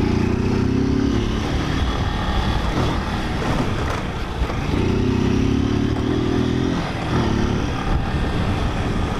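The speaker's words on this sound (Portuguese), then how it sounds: "É bom sempre andar no meio da rua assim com a moto" A delivery motorcycle rides through a São Paulo street, its engine droning steadily close by with rising and falling revs and passing traffic noise, and no talk over it.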